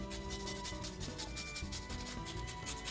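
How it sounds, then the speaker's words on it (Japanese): Lemon zest being grated by hand into a bowl of cake batter for a butter-and-lemon weekend citron cake, a steady, close scratchy rasping that keeps on with no pauses and no talking. "こちらの皮をこの中にすりおろしていきます。"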